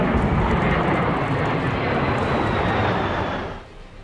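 A B-1B Lancer long-range bomber flying over Latvia, a loud sustained roar of jet engines that holds steady before fading away near the end.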